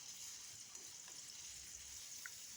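Spice paste for a meatball vegetable soup sizzles softly in a pan as it is sautéed, a faint, steady frying hiss with a few small stirring taps and no speech.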